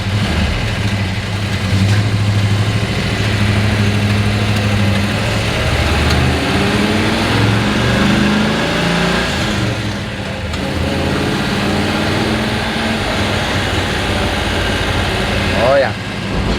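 A 1970 Plymouth Duster V8 with a coolant leak drones steadily from inside the car while it drives, a constant low engine rumble with slight rises in pitch, and people talk over it.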